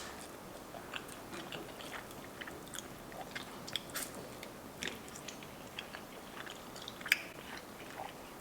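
Someone eats Korean fire noodles topped with ranch, and faint close-up chewing and slurping go on steadily with small wet clicks. The sound is quiet and there is no talking.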